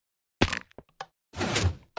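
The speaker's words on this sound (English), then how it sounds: "Yes, and the door is open." A Minecraft door opening sounds as two short wooden clunks separated by a pause, close and crisp against silence, with a few small clicks in between.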